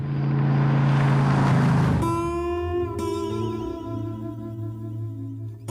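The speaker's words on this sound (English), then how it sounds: "the director heard the noise that these engines make" Powerful Ford Mustang muscle car engines roar and rev, a deep rumble shifting to a higher, steady drone as the cars pass close by.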